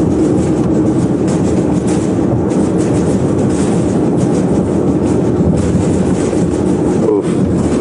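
Steady rattling and clattering of a car rolling over train tracks, a continuous loud rumble with rhythmic clacks throughout, no talking.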